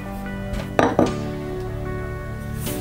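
Butter and sugar creamed together for an egg-liqueur Easter cake batter: a steady mechanical hum runs throughout, broken by a few sharp clinks of utensils against a bowl near the start.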